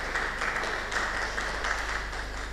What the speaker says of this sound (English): Please a round of applause for him as he gives his special address.